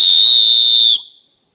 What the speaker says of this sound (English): With a whistle, you can keep blowing as long as you have air in your lungs.